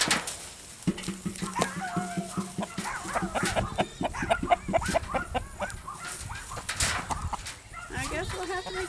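A rooster clucks and squawks repeatedly up close, with other farm animals bleating nearby and people talking over it.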